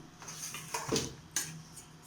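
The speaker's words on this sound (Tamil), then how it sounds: "இப்போ அரைச்சி வச்சுருக்க கேரட்டை அடுப்பில் வச்சு நல்லா கிண்டணும்." Grated carrot being stirred in a pan on the stove for carrot halwa, with a few scraping clinks of a utensil against the metal pan, moderately near and without talk.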